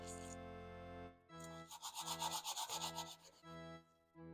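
A wooden box is hand sanded with 220-grit sandpaper in quick, soft back-and-forth rubbing strokes over quiet background music.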